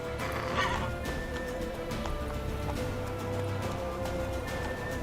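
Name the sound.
horse galloping in the video game The Witcher 3: Wild Hunt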